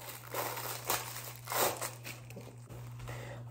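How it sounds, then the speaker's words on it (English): Plastic bag being cut open with scissors at a dissection table, giving several soft crinkling snips and rustles at close range over a steady low hum. "I have my scissors here. I'm gonna cut open the bag."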